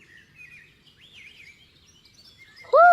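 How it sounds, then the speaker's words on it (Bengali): Cartoon birds sing with warbling, whistled chirps running steadily through the scene, then a sudden louder, sustained tonal call bursts in at the very end. "চারিদিকে পাখি ডাকছে"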